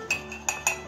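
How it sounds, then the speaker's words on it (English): A metal spoon clinks against a mug while stirring milk into hot chocolate paste, giving four or five sharp, bright taps in a quick, uneven rhythm close to the microphone. "I'm going to stir it up until it's into a paste"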